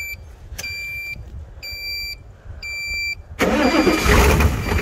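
A Harbor Freight Viking 3400A jump starter gives several short electronic beeps, then a car engine cranks and catches, roaring up to a loud steady run nearby.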